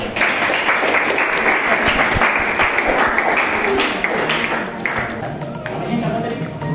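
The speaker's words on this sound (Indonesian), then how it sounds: "Beri tepuk tangan dulu." An audience in a classroom bursts into dense, continuous applause that stays loud and even for several seconds.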